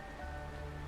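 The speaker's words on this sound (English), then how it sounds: "This is the sound of rain." Rain in the video game Honkai: Star Rail, a brief, quiet, steady hiss of falling drops with a low hum underneath.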